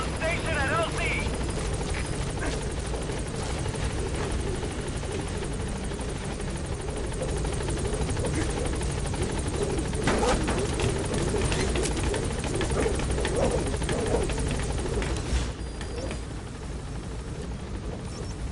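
A helicopter in the Metal Gear Solid V video game arrives at a landing zone, its steady loud rotor thrum and turbine whine continuing throughout, with radio-style voices talking over it.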